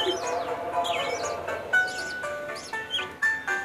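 Sparrows chirp in quick, bright bursts close by, some calls overlapping, against a faint background hum.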